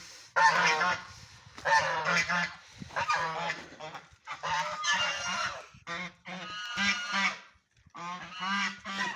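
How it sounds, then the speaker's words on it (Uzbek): Farm geese honk loudly and close by, just let out of their pen after two days inside, sounding in several harsh bursts with short pauses between them and no speech. "Hop, g'ozlarni ham chiqarib o'raylik endi."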